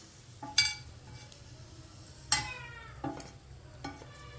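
Tamarind is roasted in a pan while a spatula stirs and scrapes it, giving faint intermittent scraping and light clinks over a soft, low background.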